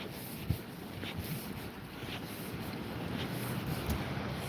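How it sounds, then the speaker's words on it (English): Rough sea rumbles and washes in the distance at night in Withernsea, under steady wind buffeting the microphone, with a few faint thuds. "The sea certainly sounds rough tonight."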